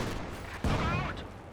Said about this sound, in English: here the M1919's firing away, getting some hits on the Sturm Pioneers